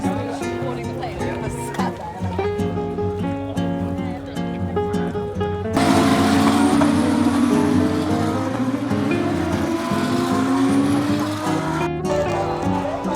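Formula 2 race cars roar past on the track at Imola, engines rising and fading over loud music from speakers and nearby talking, with one car clearly screaming by midway.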